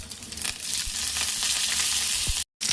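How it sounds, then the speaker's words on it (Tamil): Mustard seeds and curry leaves fry in hot oil for tempering, making a loud, steady, close sizzle with a few faint pops and stirring sounds, and a brief dropout near the end. "எண்ணெய் கடுகு போட்டுக்கலாம் கடுகு நல்லா பொரிஞ்சதுக்கப்புறமா கருவேப்பிலை கொஞ்சம் போட்டுடலாம்"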